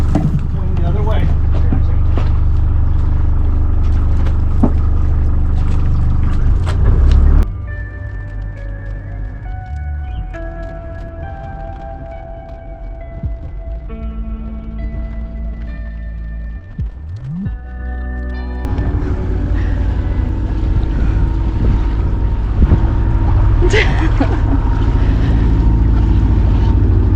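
A sailboat's engine in gear rumbles steadily up close, its low drone shifting in pitch as it changes, with wind noise and voices over it, in Canadian winter.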